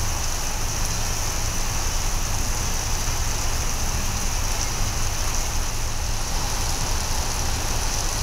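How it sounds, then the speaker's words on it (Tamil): Heavy rain pours down steadily in Tamil Nadu, a loud, dense, unbroken hiss of downpour throughout with no talk. "தமிழகத்தின் பல்வேறு பகுதிகளில் கொட்டி தீர்த்த கனமழை."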